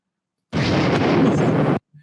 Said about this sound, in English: there's a very pathetic little explosion